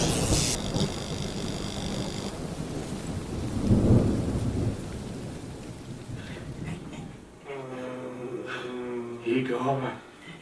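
A thunderstorm with steady heavy rain and a deep rumble of thunder swelling near the middle. A voice then enters over the downpour toward the end.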